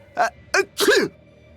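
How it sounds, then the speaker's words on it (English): A game character in Tales of Berseria sneezes in a cold, snowy mountain setting, giving two quick build-up bursts followed by a longer, louder sneeze, close and clear. "Why are you sneezing all of a sudden?"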